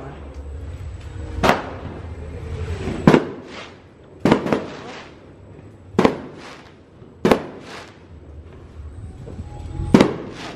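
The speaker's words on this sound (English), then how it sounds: "We're obviously letting fireworks out." Fireworks burst in a series of loud, sharp bangs spaced a second or two apart, each followed by crackling, with voices faintly in between.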